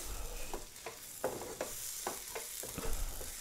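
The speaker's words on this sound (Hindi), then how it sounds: "और अब हम सारे मसालों को अच्छे से भून लेंगे ताकि मसालों का कच्चापन निकल जाए" Chaat masala and other spices being roasted in a pan, with a spatula stirring and scraping in repeated strokes over a faint, steady sizzle; close and fairly quiet.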